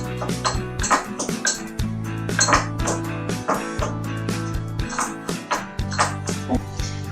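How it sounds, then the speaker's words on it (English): A spoon clinks and scrapes rhythmically against a bowl while food colour is stirred into fine granulated sugar, with tonal background music underneath. "just keep mixing it till the color is evenly distributed"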